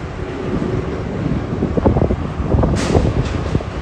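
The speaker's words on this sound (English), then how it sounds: "Oh, the wind is coming toward me." Wind buffets across the open deck of the Norwegian Jewel cruise ship, a loud continuous rushing roar hitting the microphone, swelling in gusts toward the end.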